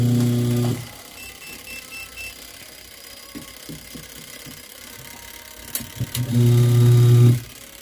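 A washing machine motor on a wash timer, wired with a five-wire timer, hums loudly at the start, pauses to near silence with faint mechanical clicks, then spins up again strongly before stopping.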